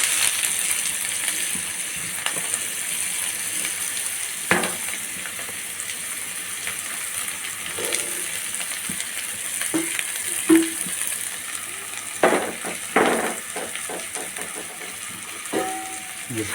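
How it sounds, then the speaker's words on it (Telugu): Chopped onions fry in hot oil in a pan with a steady hiss, broken by scattered clinks and scraping taps of a utensil, close and moderately loud. "ఆయిల్ వేసుకొని తరిగి పెట్టుకున్న ఉల్లిపాయ ముక్కలు ఇందులో వేసుకోవాలి."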